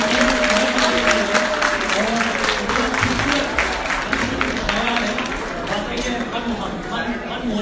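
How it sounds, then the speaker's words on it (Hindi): After a Hindi stage drama performance at a Hindi Divas cultural event, loud audience applause fills the room, dense and continuous, with voices mixed into the clapping before it eases off slightly. "बिल्कुल अद्भुत, और मेरे ख्याल से एक बार और जोरदार तालियां"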